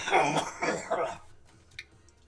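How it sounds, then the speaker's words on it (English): A single person's harsh cough in three quick bursts, close and loud, followed by quiet room tone and a faint small tap. "It's just a cough."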